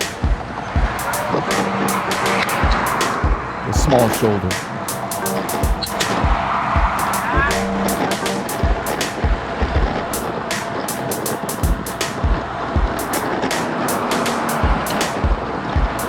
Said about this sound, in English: I believe there is a car on the left when we get there